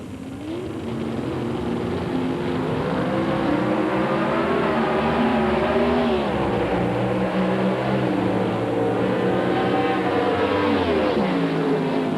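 Drag racing cars make a quarter-mile run at the NHRA Mile High Nationals, their engines screaming loud and continuous with rising and falling pitch sweeps as they accelerate down the strip.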